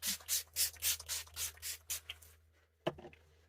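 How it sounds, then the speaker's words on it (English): Wet n Wild Natural Finish setting spray misted onto a made-up face in about eight quick, evenly spaced pump bursts, close and crisp, followed by a brief quiet and a small clack. "set that down with this Wet n Wild Natural Finish Setting Spray"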